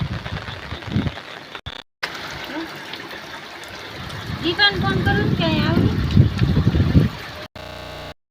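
Floodwater after heavy rain runs steadily around village houses in Khajudra, a continuous trickling, gushing flow heard up close with people talking over it.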